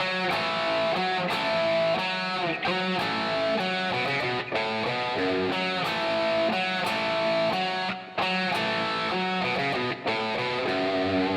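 A distorted electric guitar plays a repeating melodic lick from a song with sustained notes and brief gaps, loud and continuous with no talking.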